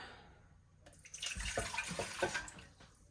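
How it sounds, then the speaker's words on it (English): Water poured from a tap into a container while measuring 1 2/3 cups for bread dough, a quiet close splashing and gurgling stream lasting about two seconds. "We start out with 1 2/3 cup water."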